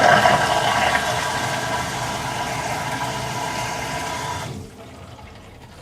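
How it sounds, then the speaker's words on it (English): A Horow X70 smart toilet flushes manually, a loud rushing surge of water that settles into a steady flow, then drops off sharply near the end. "there's your manual flush"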